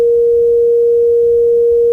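A steady, pure 500 Hz sine tone generated at amplitude 0.8, sounding loud and unbroken from start to finish with no other sounds.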